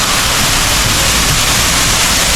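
Water showers at a swimming pool resort in Metro Manila gush loudly and continuously, a close, steady roar of spraying and splashing water with no voices.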